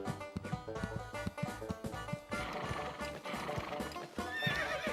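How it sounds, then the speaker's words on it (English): Horse galloping around and neighing in the Animaniacs: The Great Edgar Hunt video game, steady rhythmic hoofbeats with whinnies over a constant layer of game music. "this is just the horse runs around"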